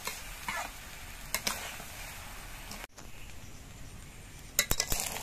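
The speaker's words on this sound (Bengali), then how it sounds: "এবার সবকিছু দিয়ে আমি কয়েক মিনিট কষিয়ে নেব।" Spices, rice, green chillies, salt, turmeric and cumin powder being sautéed in a kadai for khichuri, with a faint steady hiss and scattered light clinks and scrapes of a spatula against the pan, clustering into a quick rattle near the end.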